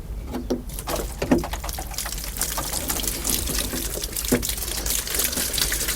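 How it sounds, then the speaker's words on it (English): Water splashing from a watering can with no rose onto tomato seedlings, a continuous close trickle broken by several brief louder spatters and drips, with no voices. "In fact, I've got the watering can here. I'll do it now."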